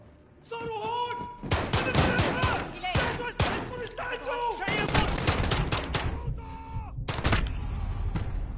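Repeated bursts of gunfire from the video game Call of Duty Modern Warfare fire in quick volleys, with someone talking excitedly over and between the shots.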